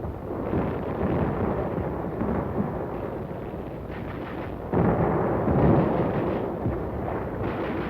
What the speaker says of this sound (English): the bombardment was lifted at Walmey, but continued at INCHON